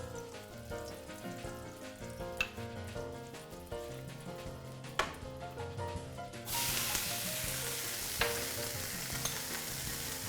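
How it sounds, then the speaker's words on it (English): Onions and garlic sautéing in olive oil, with soft crackling and light scraping at first, then a sudden loud, dense hiss partway through as the pan heats, close and continuous with no voices. "So we're gonna start sauteing these onions and the garlic."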